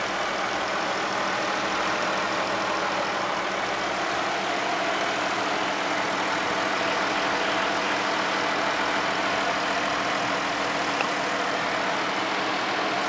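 A 3.6 liter V6 in a 2012 Volkswagen Routan SEL idles steadily with an even, smooth hum and no voices.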